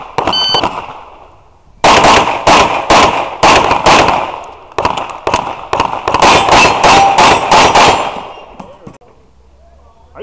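Rapid strings of loud, sharp gunshots at a USPSA Open division practical shooting stage at Lower Providence Rod & Gun Club, firing in quick bursts with short pauses after a brief opening crack and a quiet lead-in.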